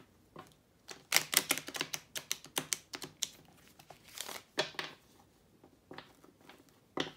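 Quick bursts of crisp riffling and snapping, like playing cards being shuffled and squared up, repeating in short clusters with brief gaps.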